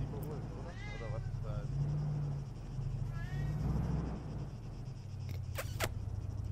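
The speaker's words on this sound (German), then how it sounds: "So, Katze im Hintergrund." Cat meowing in the background of a German-language online game session, a couple of distinct rising meows heard under ongoing game noise and low hum, with people talking over it.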